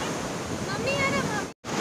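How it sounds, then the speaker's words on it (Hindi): Ocean waves crash onto the shore at Visakhapatnam in a continuous loud roar of surf, with wind buffeting the microphone and a brief dropout near the end. "इसकी जो लहरें होती है वो बहुत ज़ोर से हिट करती है वाइजैक की"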